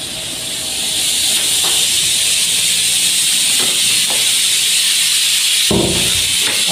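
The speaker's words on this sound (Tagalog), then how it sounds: "iniinit ko muna ho yung aking mimitarin mamaya" Leftover adobo being reheated in a pan hisses and sizzles loudly and continuously, a steady frying noise that swells after the first second with a brief louder burst near the end.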